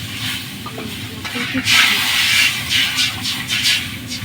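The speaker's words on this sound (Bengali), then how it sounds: "লাকড়ি চুলায় রান্না করা হচ্ছে খুবই স্পিডে রান্না হয় এটায়" Curry sizzling and frying in a pan on a wood-fired stove, with stirring scrapes and bursts of hissing steam, close and fairly loud, without talk.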